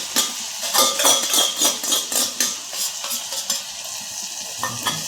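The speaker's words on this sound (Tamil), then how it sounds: "இப்போ வந்து இந்த பக்குவத்தில் கருவாடை போட்டுருங்க" Dry fish fries in hot oil on medium flame while a utensil stirs it in a pan, giving steady sizzling broken by repeated rhythmic scraping clinks, close and clear with no talk.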